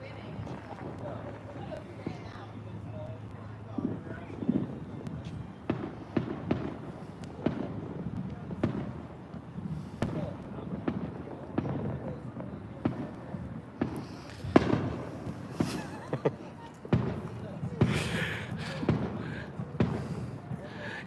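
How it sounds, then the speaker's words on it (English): Fireworks set off outdoors at a Fourth of July family gathering crackle and pop repeatedly at middle distance, with sharp bursts scattered over a continuous murmur of voices and activity. "We've been here shooting fireworks."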